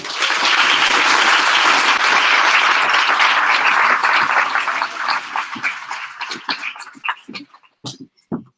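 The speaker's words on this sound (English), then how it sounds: "Can we give another round of applause to the students because they did amazing?" Audience applause at an art school open studios event, a dense burst of clapping that fades over several seconds into scattered individual claps.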